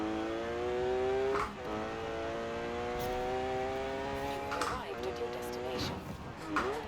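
Porsche 911 GT3 RS with a naturally aspirated engine accelerating hard in Forza Horizon 4, its steady rising engine whine climbing through the revs, broken by gear changes near the start and again around the five-second mark, under some talk.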